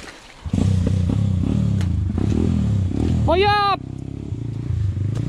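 Pitgang 140xd pit bike ridden hard over rough ground, its engine droning loud and steady, briefly joined by a high whine before easing, with someone shouting over it.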